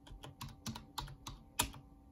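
Typing on a white computer keyboard used for gaming, a quick run of about seven sharp key clicks in uneven rhythm, close-up and quiet, with no talking.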